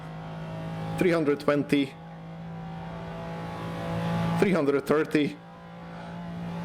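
A McLaren F1's engine screams through rising gear pulls at very high speed on the Nordschleife in Assetto Corsa, two sharp revving bursts with shifts, under a steady drone, while someone talks over it.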